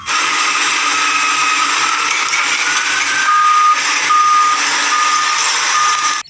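Steady electronic beeping of a toy loader truck reversing, a regular pulse of beeps over a loud, constant motor whir, close and continuous.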